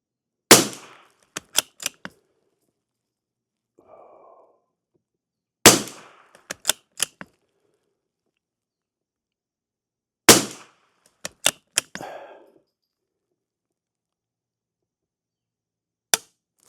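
Gunshots from CCI subsonic hollow point rounds treated with chapstick or mineral oil crack out in three sharp clusters of four or five quick shots, with a lone shot at the end, loud and close against near silence.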